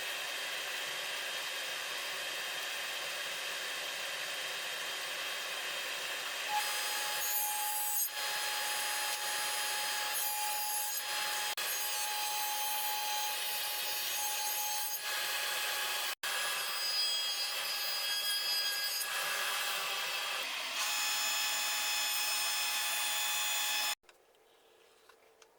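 A table saw with a crosscut sled rips through wood in one long, loud, steady whine that shifts slightly as the cut goes on, then cuts out abruptly into near quiet.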